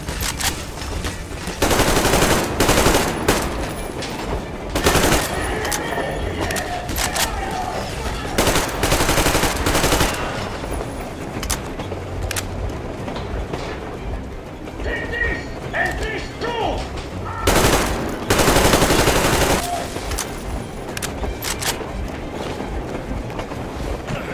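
Gunfire in the video game Metro Exodus on PS5: repeated loud bursts and rapid automatic shots crackle throughout, mixed with mechanical clatter and shouted voices.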